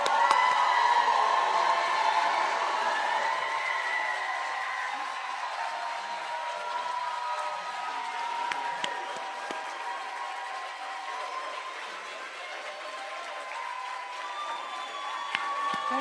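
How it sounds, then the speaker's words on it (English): Audience applause and cheering at a nursing department pinning ceremony for graduates, a sustained crowd wash across the whole stretch with scattered whoops, slowly easing in level but never stopping. "Let's give our graduates a round of applause."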